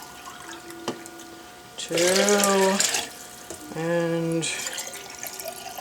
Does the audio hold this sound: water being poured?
yes